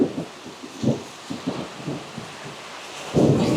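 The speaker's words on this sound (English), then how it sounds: "it's been raining like this off and on for the past couple of days" A Texas rainstorm that has come and gone for days brings low, muffled thunder rumbles in uneven bursts over a soft background of rain, ending in a heavier rolling swell.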